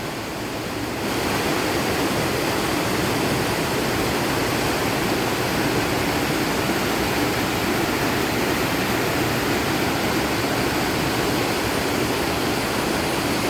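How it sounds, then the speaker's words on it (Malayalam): A large perennial stream on a plot of land in Idukki flows with a steady, broadband roar of rushing water that is loud and unbroken from start to finish, with no voices. "വലിയൊരു തോടാണ് ഇത് കേട്ടോ"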